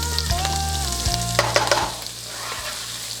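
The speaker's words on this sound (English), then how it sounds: "Give it a nice little stir." Flour is stirred into sausage and pork fat in a frying pan, giving a close, steady sizzle with scraping stir strokes. A few tonal ringing sounds are heard early on.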